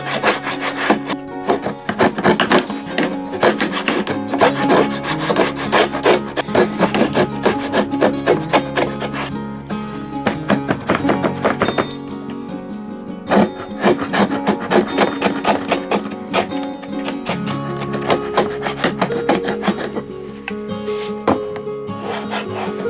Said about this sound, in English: we're just turning the knob on the top of the router plane a quarter of a turn at a time